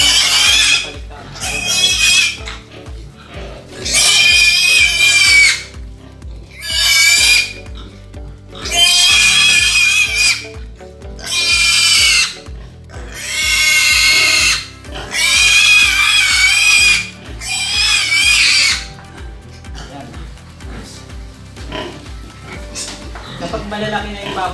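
Piglets squealing on a pig farm, loud shrill cries coming in repeated bursts a second or two long separated by short quieter gaps, with low background farm noise throughout.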